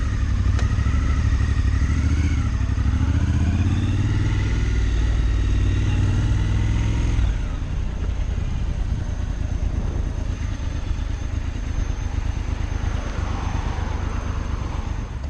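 A Triumph Scrambler XC motorcycle, a 2022 model, pulls away from a dealership: a loud, close engine rumble holds steady, then drops into a rougher, wind-buffeted riding drone as the bike moves off.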